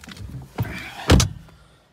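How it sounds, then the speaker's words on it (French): Someone gets into a car out of the rain. Rustling and shuffling lead to a solid, close car door thud, followed by fading movement inside the cabin. "je rentre dans la voiture parce que il pleut"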